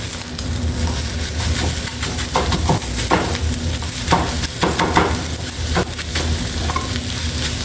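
Eggs frying in a pan, a steady close sizzle and crackle with occasional scraping and stirring strokes, continuous at an even level with no talking.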